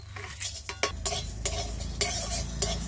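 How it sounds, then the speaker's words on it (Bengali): Whole coriander, cumin, peppercorns, garam masala and dried chillies dry-roast in a pan with a dry rattling sizzle. A spatula scrapes and stirs against the metal in repeated close strokes, with clinks, and no one talks. "ধনে, জিরে, মরিচ, গোটা গরম মশলা আর শুকনো লঙ্কা, এইগুলো সব আমি একসাথে ভেজে নেব।"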